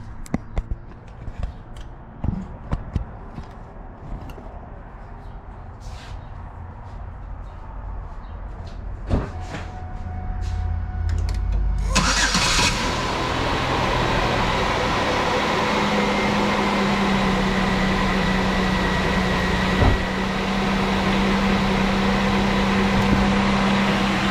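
After a fuel pressure regulator replacement, a 2003 Chevy Venture engine turns over following a few light clicks and knocks. It then settles into a loud, steady running drone with a constant low hum.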